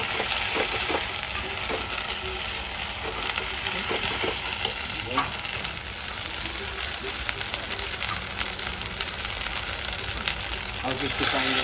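Onions with ginger and garlic sizzle and crackle in a pan as they fry for beef liver curry, a steady close frying hiss with light stirring scrapes throughout.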